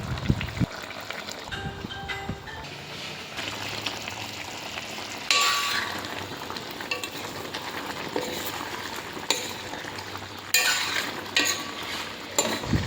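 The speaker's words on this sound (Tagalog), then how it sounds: "konting halo ulit at malapit na siyang maluto" A spoon scrapes and stirs through food cooking with added sugar, over a steady low sizzle from the pan, with clinks against the pot and no voices.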